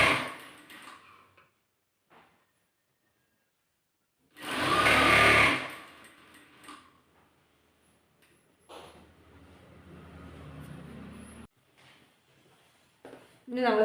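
A sewing machine stitches the slit edge of a kurti in a short, loud, close burst, then quieter intermittent whirring and clicking, with someone talking between.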